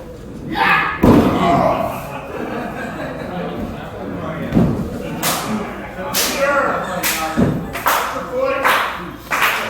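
A wrestler crashes back first into the turnbuckle at a CZW Dojo Wars event, one of several loud ring slams and thuds breaking through a commentator's talk and crowd noise.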